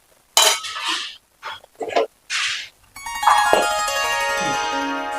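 A lid goes onto a pot of coconut milk fish curry with several sharp metallic clinks and clatters, followed by a sustained ringing metallic tone that lingers to the end.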